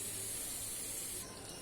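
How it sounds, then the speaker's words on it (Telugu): Steam escaping from the vent of a pressure cooker on a home stove before the whistle is fitted, a steady, close, hissing jet that drops slightly in strength near the end. "ఆవిరి వచ్చాక, ఇక్కడి నుంచి ఆవిరి వస్తుందండి"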